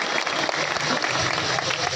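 An audience at a Hindi poetry gathering claps for itself, a short burst of dense, steady applause filling the whole moment.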